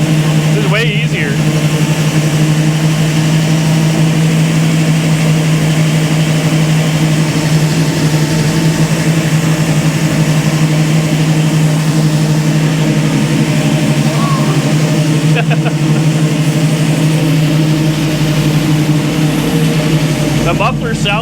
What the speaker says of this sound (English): The mufflers sound good though. I like how it's got a good sound.